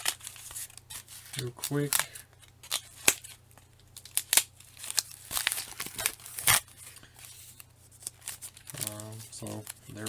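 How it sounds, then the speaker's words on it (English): Tape on a mail package is cut and torn open with crinkling, scissor-like snips and paper rustling, while a person talks intermittently over a low hum. "So open this package up. Cut the tape"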